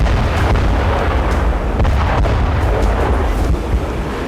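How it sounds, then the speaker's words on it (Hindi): Continuous rumbling blasts of artillery shelling near the Zaporizhzhia nuclear power plant, a loud, dense, low roar with sharp thuds breaking through, no voices. "लगातार धमाके हो रहे हैं।"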